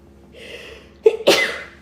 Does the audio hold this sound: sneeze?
yes